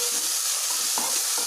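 Turmeric being stirred into onions frying in a pan, a steady sizzle with a few soft scraping strokes of the spoon, close and alone.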